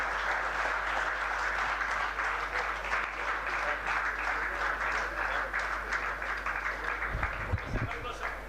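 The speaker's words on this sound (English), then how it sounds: "can we have a very big round of applause" Steady applause from an audience at a university chemical engineering jubilee ceremony, a broad sustained patter of clapping held at moderate level throughout, with some low thumps near the end.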